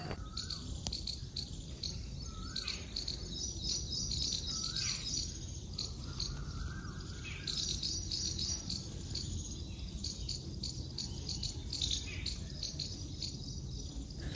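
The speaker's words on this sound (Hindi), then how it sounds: "चिड़ियों के चहचहाने की आवाज़ कैसी आ रही" Busy, high chirping fills the air without pause, a dense chorus of sparrows and insects layered over a steady outdoor hum.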